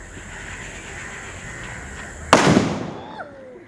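A firework launched from a homemade cannon goes off with a single sudden loud blast, followed by crackling and a fading whistle as the shot trails away, after a quiet stretch of low background hum.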